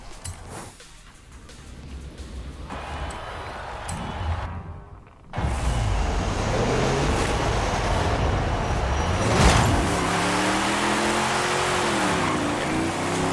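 A car on a speed test pass goes quiet briefly, then launches hard with loud engine roar and wheelspin, revs rising and shifting in a steady, sustained pull.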